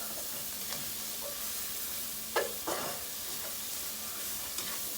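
Homemade ginger paste fries in a pan for a desi chicken curry, a soft continuous sizzle broken by a few distinct scraping stirs of a spoon, fairly quiet and with no one talking.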